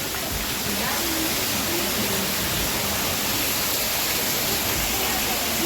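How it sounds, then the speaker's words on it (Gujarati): Heavy rain pours down in Gujarat in a dense, constant roar, with a faint voice briefly audible beneath the downpour. "અત્યારે હાવ ઝાંખી દેખાય એવી બારિશ પડે છે"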